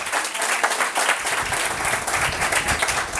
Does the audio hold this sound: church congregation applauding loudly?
yes